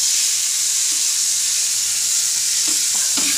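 Tomato chutney stir-fried on a hot griddle gives a loud, steady hiss and sizzle the whole way through, with a few soft scraping stirs near the end.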